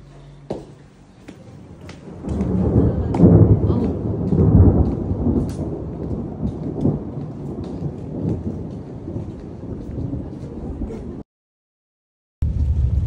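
Heavy rain pours steadily in Kazbegi, Georgia, rising in intensity with low rumbling underneath, then cuts out briefly before resuming near the end.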